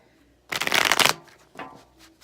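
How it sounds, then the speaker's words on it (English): A tarot deck riffled close up in one dense, crisp flutter of cards lasting about half a second, followed by a softer second shuffle, with no talking. "One more shuffle here for Aries."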